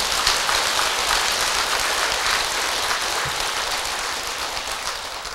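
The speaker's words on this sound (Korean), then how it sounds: "다짐한다면 한번 박수 한번 치세요." An audience at a Buddhist temple talk claps together, a dense sustained burst of applause that slowly tapers off, with no speech over it.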